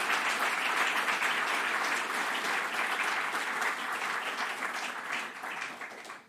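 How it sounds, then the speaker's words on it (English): Warm audience applause for the speakers and panelists of a symposium session, a dense, steady clapping wash that holds loud for about five seconds before tapering off at the end. "I want to have a warm applause for everyone, please, now."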